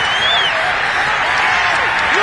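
A loud, steady roar of stadium crowd cheering after a touchdown in a football video game, sustained and dense for the whole stretch with a faint whistle-like tone rising above it.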